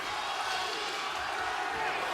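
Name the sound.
boxing crowd cheering to urge on a fighter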